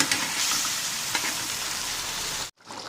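Small shrimp fry in a hot pan with a steady, close crackling sizzle for about two and a half seconds, then the sound cuts off abruptly and returns more faintly; no voices.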